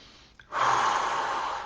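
A single deep breath, a brief catch followed by a long, steady airy exhale close to the mic, with no talk.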